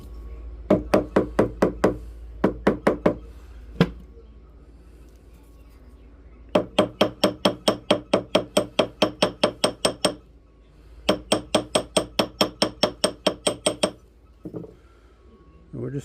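A rawhide mallet and a ball peen hammer tap a metal ring in quick runs of sharp, ringing knocks, grouped in three bursts separated by short pauses, loud and close.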